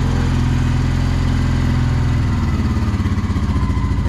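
A small engine with a broken choke runs loud and close on choke in a rough, steady drone, then its firing turns slower and uneven as it starts to shut off.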